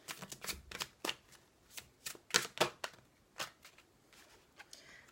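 Someone cuts and shuffles a deck of cards for a reading: a close, quiet flurry of rapid riffling snaps and flicks, uneven in rhythm, fading toward the end.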